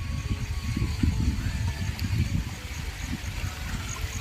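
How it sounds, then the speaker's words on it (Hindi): A small waterfall on a green hillside near Dalhousie gives off a steady, moderately close hiss of flowing water over a low rumbling churn, with no voices. "इधर भी एक छोटा सा झरना है।"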